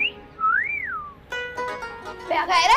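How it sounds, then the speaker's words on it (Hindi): A person whistles a clear rising and falling tune, a smooth sliding note followed by a rapid rhythmic trill, loud and close, with a brief burst of louder sound at the end. "आपने सीटी बजाई है?"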